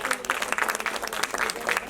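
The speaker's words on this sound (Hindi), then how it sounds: "जोरदार तालियां हमारे सभी मेहमानों के लिए" Hearty audience applause for the guests at a stage programme marking Lata Mangeshkar's 93rd birthday, a brief, steady burst of many hands clapping close by.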